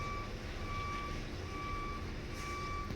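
A truck engine rumbles steadily while a reversing alarm beeps at regular intervals, the beeps clear above the low drone.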